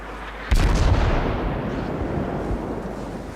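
Gun blasts from a Benson destroyer's 127mm guns in a naval warship battle game, a heavy boom landing at once and then a long rumbling roll that stays loud to the end.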